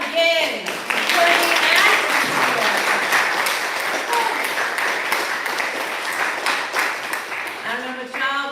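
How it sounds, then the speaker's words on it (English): Audience applause at a poetry reading, a steady wash of clapping for several seconds, with brief talk at the start and end. "please applaud again for the"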